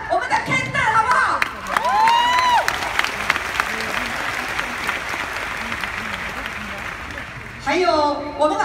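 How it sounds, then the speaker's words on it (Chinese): A large convention audience at a Nu Skin event breaks into sustained, dense applause with cheers and whoops. A loud voice speaks over it at the start and again near the end. "让我们把最热烈的掌声给到远道而来的来自美国的我们的 Kendall"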